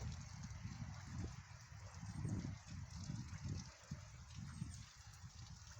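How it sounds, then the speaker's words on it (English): Water pouring and trickling down through rock beside a hiking trail, a steady low rushing gurgle that holds evenly throughout, close by, with no talk over it. "I'm hearing water right there pouring down through the rock"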